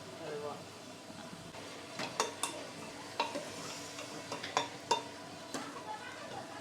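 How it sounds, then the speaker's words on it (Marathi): Peas and potatoes frying in oil, a soft steady sizzle broken by sharp clinks and scrapes of a spoon stirring against the pot, with a voice talking over the cooking. "आपल्या वटाणा बटाटा तेलामध्ये छानपैकी फ्राय झालेला आहे"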